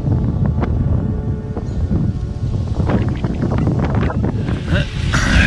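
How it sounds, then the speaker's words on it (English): Strong wind buffets a tent at a Catskill Mountain pond campground, loud gusty rushing and flapping with microphone wind noise, building toward the end. "It's gotten awfully windy. I'll give you a quick look at the tent blowing in the wind."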